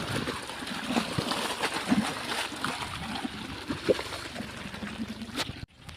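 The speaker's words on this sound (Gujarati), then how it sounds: "ગાઈસ આપણા મોટરમાં ઠંડુ ઠંડુ પાણી આવે, જોઈ શકો તમે" Cold water pours from a farm motor pump outlet, splashing and gurgling steadily at close range before cutting off abruptly near the end; no talking is heard.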